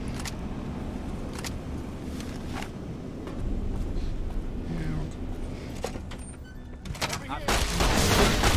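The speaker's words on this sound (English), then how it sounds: "Let's get our sturdy caravan shotgun." Caravan shotgun blasts in the Fallout: New Vegas video game ring out as scattered sharp reports over a steady background rumble, growing denser and louder toward the end.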